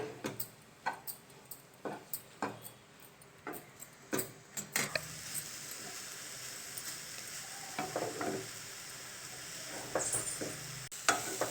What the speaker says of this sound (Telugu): ఇప్పుడు నెయ్యిలో దీన్ని కొంచెం సేపు గోలియాలి మంచిగా క్యారెట్ని